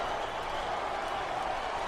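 Wrestling arena crowd cheering in SmackDown vs Raw 2008 on Xbox 360, a steady, dense roar of applause and voices sustained throughout without breaks.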